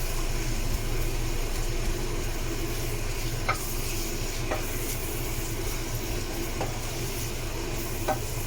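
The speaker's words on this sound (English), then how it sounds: "keep frying them till they turn brown." Onions fry steadily in a hot pan for a lamb curry with potatoes, a continuous close sizzle with a few faint stirring clicks, no talking.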